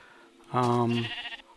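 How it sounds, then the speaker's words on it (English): Minecraft sheep giving a single short nasal bleat, clear and close, in a video game. "Ooh, look at this sheep right here."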